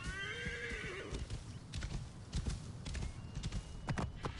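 Horse neighs loudly up close in Assassin's Creed Origins near the Great Sphinx in ancient Egypt, a long whinny followed by scattered hoofbeats and thuds with no talk.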